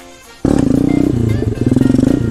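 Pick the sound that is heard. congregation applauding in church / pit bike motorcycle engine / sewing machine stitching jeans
pit bike motorcycle engine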